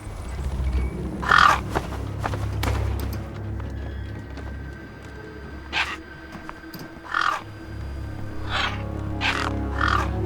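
Gang birds in the Beyond a Steel Sky wasteland give scattered harsh caws, about eight calls spread irregularly over a low rumbling ambient drone, some nearer and louder, others faint.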